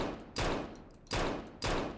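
Three heavy, evenly spaced gunshots in a Roblox shooter with slowed bullets, each a booming blast that trails off, loud and close with nothing else around them.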